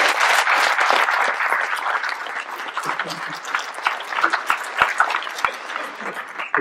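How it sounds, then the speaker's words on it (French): Audience applause at a local council meeting honoring a commission's work, a dense wash of clapping that thins and turns patchier after a few seconds, with scattered louder individual claps toward the end. "je voudrais qu'on applaudisse"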